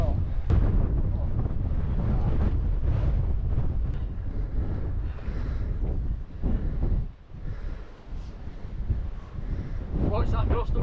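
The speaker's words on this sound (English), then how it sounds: "Watch that gust of wind, Andy." Strong gusting wind buffets the microphone high on a Welsh mountain during a scramble, a loud continuous low roar that surges and dips over the stretch, with brief quieter lulls before building again.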